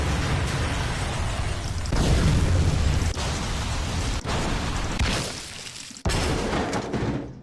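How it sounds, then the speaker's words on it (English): A game-engine explosion sound effect: a loud, sustained roaring blast with crackling debris and repeated booming bursts, rumbling for several seconds before tapering off. "Let's do that explosion noise."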